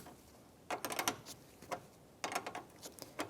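A wrench works the fan shroud bolts on a 1992-1996 Ford F-150, producing quiet bursts of rapid ratcheting clicks in two separate spells with short pauses between.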